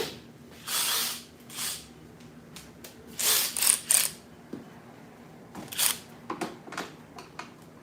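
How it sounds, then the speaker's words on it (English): A hand ratchet works on a fastener in an automotive shop, giving short bursts of rapid clicking separated by pauses, fairly close and moderately loud over a low background hum. "I might need to get a different ratchet for that one."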